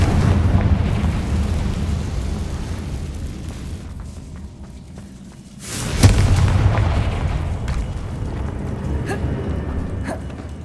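A Confringo blasting curse goes off in Hogwarts Legacy, a loud booming explosion around the six-second mark that rises out of a dense rumbling game backdrop and trails off into a sustained roar.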